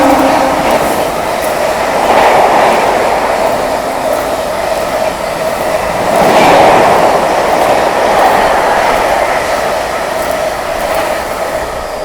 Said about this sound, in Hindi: आ रही है कानपुर नई दिल्ली शताब्दी एक्सप्रेस आती हुई